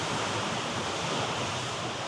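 Sea waves crash around a small coastal cavern in volcanic rock on Madeira's coast near Funchal, a dense, steady roar of surf with a windy rush and no distinct breaks.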